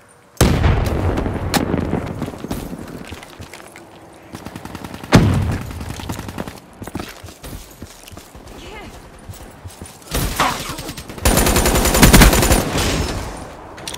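Grenade blast and bursts of gunfire in a Call of Duty: Black Ops III team deathmatch, with sharp loud bangs at the start and mid-clip and a dense burst of shots near the end over game voices and background noise.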